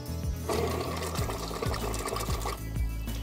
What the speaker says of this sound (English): prime the pump, and then there is a button on the front to release the water.